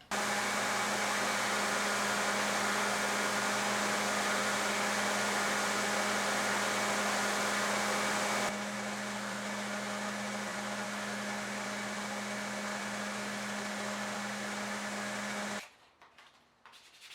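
A power sander or grinder faces the front edge of Micarta knife handle scales, a loud continuous whirring drone that changes tone midway, carries on steadily, then stops abruptly near the end.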